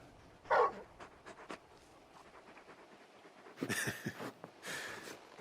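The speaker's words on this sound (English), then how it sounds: "You're just a big puppy, aren't you? A very big puppy." A large dog in the video game Final Fantasy XVI pants and whimpers, with a sharp yelp early on, then bursts of breathy panting and whines later, fairly quiet overall.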